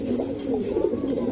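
Racing pigeon, a hen sitting on eggs, giving soft low throaty coos in a short continuous murmur, close by and quiet, no one speaking.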